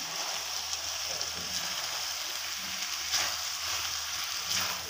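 Vegetables frying in a pan for a chicken vegetable roll filling, a steady, even sizzle and hiss with faint stirring scrapes, close and continuous with no talking.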